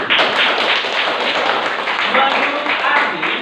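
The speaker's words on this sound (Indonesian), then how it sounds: "Oke, tepuk tangan." Classroom of pupils clapping hands together on the teacher's cue, a dense, steady patter of many claps filling the whole moment at close range.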